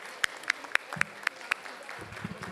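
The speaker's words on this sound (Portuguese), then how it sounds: "e recebo os nossos aplausos" Scattered, sparse hand claps ring out in a legislative chamber session, a few distinct claps spaced about a quarter second apart, faint and somewhat distant, fading into low murmur.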